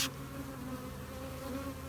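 Honeybees buzz steadily around a hole in a bee tree during a trap-out, a close continuous droning hum with no voices.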